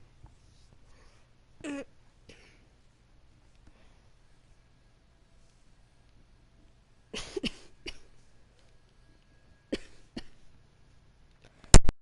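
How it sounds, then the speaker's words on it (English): A person coughs in several separate bursts spread across a quiet stretch, close and fairly loud, with near silence between the fits. "Just had to cough a lot."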